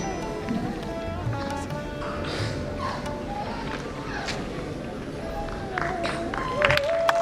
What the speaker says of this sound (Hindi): तालियों में कमी नहीं होनी चाहिए।